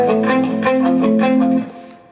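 Electric guitar plays a part from a song on a moderately distorted tone, a steady, loud run of sustained chords for about a second and a half before the sound cuts and fades to a quiet tail.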